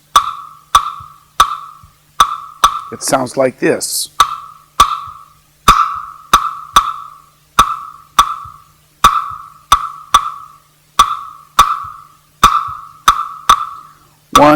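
Sharp, bright wooden clicks of claves repeat a syncopated rumba clave pattern, close and clear, with a short spoken phrase early on.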